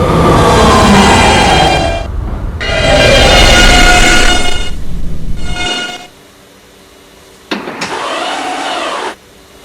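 An R local subway train in the station, bound for Myrtle Avenue, rumbles and hisses loudly for several seconds, then drops away, followed by a brief closing tone-like burst near the end.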